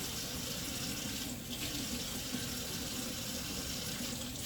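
Tap water running steadily into a container while being warmed for bread dough, a continuous close hiss and splash with no break.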